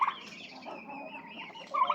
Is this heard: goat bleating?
no